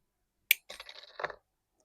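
Double loop binding wire is snipped in one sharp metallic click, followed by a short jingling rattle of the wire pieces. The sound is brief and close, in an otherwise quiet room.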